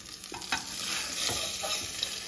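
Prawns sizzle in hot oil in a pan while being stirred, giving a steady crackling fry broken by scraping stir strokes, close and continuous with no voices.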